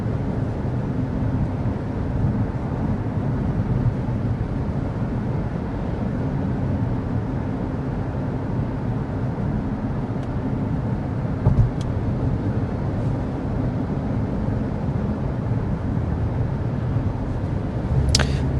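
Cabin noise inside a 2024 Toyota Prius XLE cruising at 55 mph: a steady low road and engine rumble with wind hiss, constant and unbroken, with a faint click near the end.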